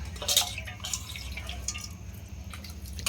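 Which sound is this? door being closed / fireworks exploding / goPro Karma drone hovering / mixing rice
mixing rice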